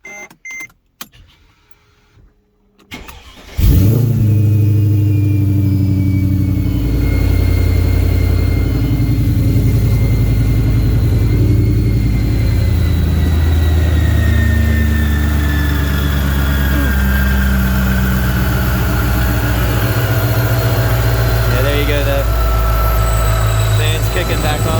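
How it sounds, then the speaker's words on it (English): A Mercedes W211 E55 AMG starts up from cold after a quiet interior, then idles loudly and steadily for the rest of the clip with a deep continuous rumble, close by. "The engine's pretty cold. It's pretty loud still, but at least it does run."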